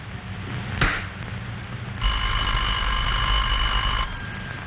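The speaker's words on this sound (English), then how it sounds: "The party at this number will hear a clear, evenly spaced ring" A telephone ring tone sounds once for about two seconds, a steady buzzing trill, preceded by a brief click.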